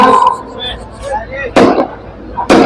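Two sharp, loud bangs of firecrackers about a second apart, bursting over a murmur of distant voices and background noise at Bismillah Chowk, Jafar Nagar, Malegaon.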